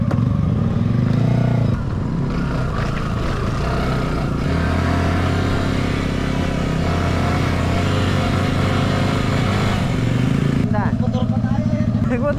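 A motorcycle engine idles and revs nearby, steady mechanical rumble throughout, with people talking over it.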